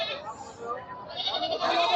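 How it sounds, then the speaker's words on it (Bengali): Goats tethered in rows at a Sunday livestock market in Chatmohar, Pabna, bleat close by in two drawn-out, wavering calls over a murmuring crowd. "এই যে দেখেন কাতারে কাতারে শুধু ছাগল আর ছাগল।"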